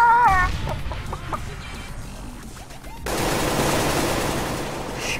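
Cartoonish chicken clucks and squawks in a shooter video game, bursting out in short rhythmic calls at the start and then fading under explosion and gunfire noise and a dense crackling blast that takes over the second half.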